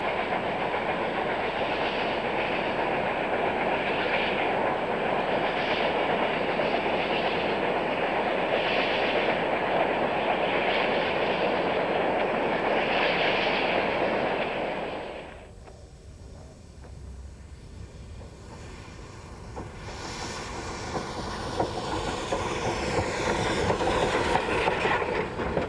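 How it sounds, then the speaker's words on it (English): A Durango and Silverton narrow gauge train on the former Denver and Rio Grande line rumbles loudly and steadily with clattering wheels for about fifteen seconds, then drops to a quieter, more distant roll that slowly builds again. "This scenic route is the northern branch of the former Denver and Rio Grande Narrow Gauge Railroad."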